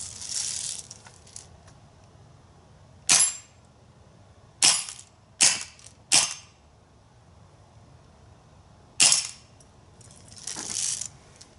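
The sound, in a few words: Umarex Steel Force BB rifle firing shots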